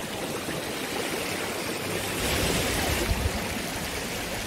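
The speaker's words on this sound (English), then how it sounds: "Just crossing another river" A shallow river in Cot Valley is waded across at low tide, giving a close, continuous rush and splash of flowing water with no voices.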